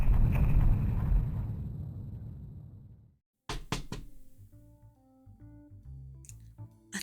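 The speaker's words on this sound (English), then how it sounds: "A third knock." A door knocked on at home: a rushing wash of noise gives way to a quick cluster of sharp, close raps, then soft tonal music.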